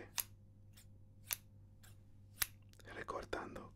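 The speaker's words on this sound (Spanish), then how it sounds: "recortando con las tijeras." Scissors trimming hair in a barbershop, giving five crisp, close snips about half a second apart, followed by soft whispering over more quiet cutting.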